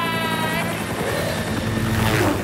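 A cartoon helicopter in an animated series, a loud continuous buzzing rotor drone with harmonic whine filling the short stretch, close and dominant, without clear speech.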